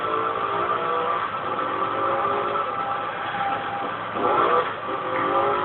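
Car engine droning and revving in the Crash Time 4 video game, with the car driving with missing wheels; a steady loud engine tone throughout with a brief louder surge near the end.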